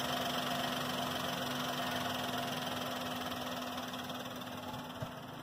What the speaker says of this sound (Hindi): आप इंजन नॉइज देखिए,